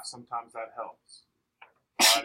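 A single loud, abrupt sneeze bursts out at the end of a classroom math review, right after a teacher speaks a few words.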